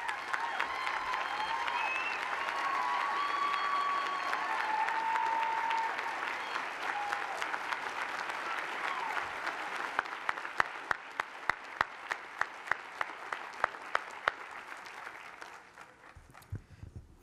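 An audience at a law school commencement gives the faculty a long round of dense applause that thins into scattered individual claps before fading out.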